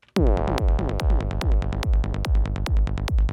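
A synthesized squelchy one-shot hits loud and sharp, then repeats as a fast delay tail of evenly spaced echoes that keep a steady loudness for over three seconds.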